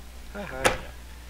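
A door opens in the video game The Very Organized Thief with a short creak that rises to a brief sharp knock, close and clear over a quiet background.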